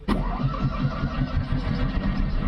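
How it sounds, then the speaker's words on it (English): A small Fiat car engine catches after a sharp starter burst and settles into a loud, close, throbbing mid-pitched run with a little added gas. "Now you have to add gas when you're starting it."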